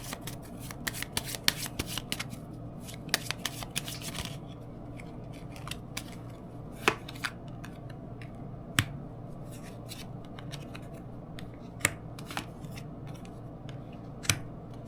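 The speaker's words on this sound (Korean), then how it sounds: "자, 그럼 편시점 조언 카드 뽑아보도록 하겠습니다." Tarot cards being shuffled and drawn by hand, a close, quiet series of crisp riffling flicks and snapping card slaps, dense at first and then spaced out as single sharp clicks.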